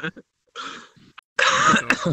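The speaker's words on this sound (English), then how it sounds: "Cough." A person coughs and clears their throat during an online VRChat developer meetup, a few short rough bursts close to the microphone, with brief speech mixed in.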